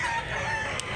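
A blue-legged fighting rooster crows loudly and close by, its drawn-out call filling the whole moment with a steady, strained tone.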